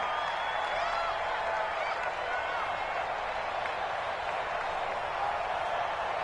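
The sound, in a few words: stadium crowd noise in a football video game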